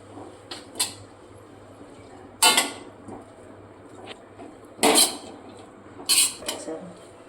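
Hakka noodles and masala are tossed in a pan, with sharp metallic clanks of a utensil against the pan in scattered bursts over a low steady hum.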